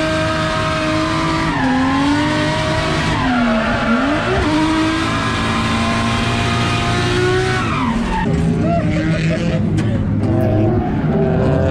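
A race car in a South Australian state series round, already missing its bumper after the first lap, roars loudly and continuously while its tyres skid and squeal through corners, the engine pitch rising and falling close up.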